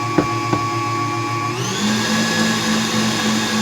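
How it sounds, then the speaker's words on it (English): An electric hand mixer whirs steadily through cupcake batter for banana pudding cupcakes, a loud continuous motor drone that shifts up in pitch partway through as the speed changes, with a couple of faint knocks near the start. "turn the mixer back on for just a little bit longer"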